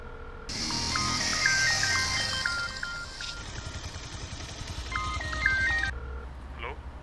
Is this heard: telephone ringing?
yes